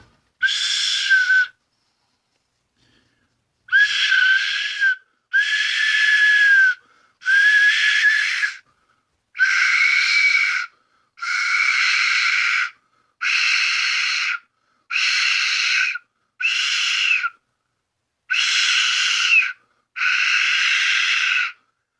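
A Murder of Crows death whistle is blown in a series of about eleven loud, harsh, raspy shrieks, each lasting one to two seconds with short gaps between them. The shrieks ring out alone in silence.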